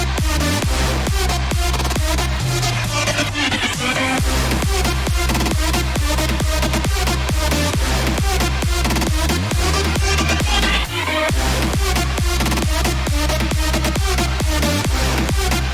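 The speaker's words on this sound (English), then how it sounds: "So overall, the drop sounds like this." A festival-style electronic music drop of a song, with punchy kicks hammering a steady four-on-the-floor beat under dense, full synth layers. It plays loud and continuous, with a brief breakdown before the beat returns.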